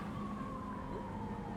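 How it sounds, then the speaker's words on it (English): Police siren wailing faintly in the distance in the theme-park game Planet Coaster 2, a thin steady tone drifting slightly downward under low background ambience. "I heard sirens."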